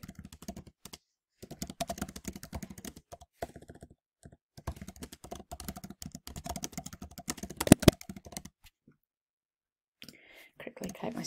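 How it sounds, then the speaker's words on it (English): Rapid typing on a computer keyboard while setting up a note in the Hive app, dense bursts of close key clicks with short pauses, a louder clack near the end, then quiet with faint movement. "Quickly type my spelling."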